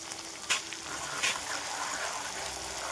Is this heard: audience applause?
no